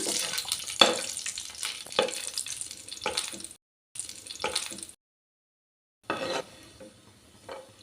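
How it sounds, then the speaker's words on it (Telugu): Dry fruits fry in hot ghee until golden brown for double ka meetha, a steady crackling sizzle with stirring scrapes, broken by two short silent gaps before resuming more quietly. "వీటిని ఇందులో ఇలా ఫ్రై చేసుకుందామండి ఇలా గోల్డెన్ బ్రౌన్లో వీటిని ఫ్రై చేసుకుందాం"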